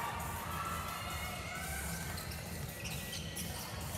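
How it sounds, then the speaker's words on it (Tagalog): CEU Scorpions fans cheer at a PBA D-League semifinal basketball game against St. Clare, a continuous, distant roar of crowd noise with shouts and a few whistles over the arena's steady background din. "Hiyawan yung crowd."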